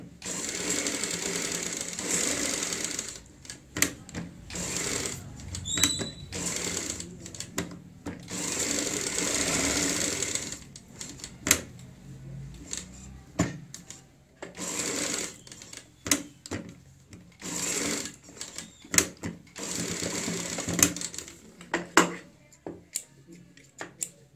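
A sewing machine stitches along a kurti neckline with paper pasting, running in loud sustained bursts broken by short pauses and sharp clicks, close and alone.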